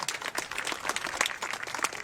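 An outdoor audience at a Japanese festival in La Rochelle applauds a taiko drum group, steady dense clapping from many hands throughout with no pause.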